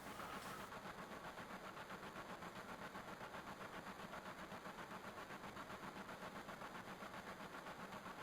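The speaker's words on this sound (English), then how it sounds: "Can you guys hear the distinct noises of trains and tracks and train tracks?" A Final Fantasy VII train rolls steadily along its tracks with a continuous, faint rumble and a regular rhythmic clatter, no voices over it.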